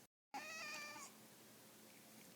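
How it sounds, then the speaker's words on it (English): A house cat meows indoors, a short rising cry followed by a softer trailing call, fairly close against a quiet room background. "sorry if you just heard Milo meow"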